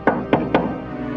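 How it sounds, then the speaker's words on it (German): Three quick, sharp raps on a wooden door in a German fairy tale, evenly spaced and fairly loud, followed by quiet with no talk. "da klopfte jemand an die Tür."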